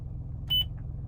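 A single short electronic beep from a Toyota iQ car radio saving a station preset, clear and brief, over a low steady hum.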